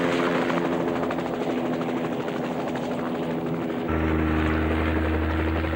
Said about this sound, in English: our use of the helicopter, a machine beautifully suited to our mountainous terrain